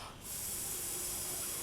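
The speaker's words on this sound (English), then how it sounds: "So I'll spray again, and this time just blow to get it to dry." Liquid polymer clay is sprayed from a nozzle in a single steady hiss that begins after a brief quiet moment and continues close and loud to the end.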